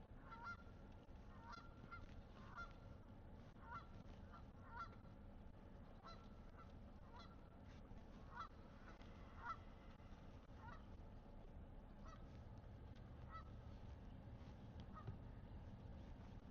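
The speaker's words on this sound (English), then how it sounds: "there's a lot of geese over here too." Many geese honk steadily at a distance near a beach, a busy flock calling over a constant low outdoor rumble.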